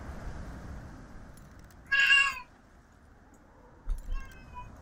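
A cat gives one clear, loud meow close by, then a softer, shorter meow a couple of seconds later, over a quiet room hiss.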